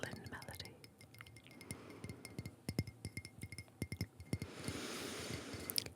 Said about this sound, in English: The gentle sound of glass touching creates a crystalline melody.